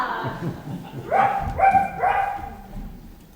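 Dog barking on stage in a Tintin play, three clear sharp barks in quick succession over faint background murmur, close and fairly loud.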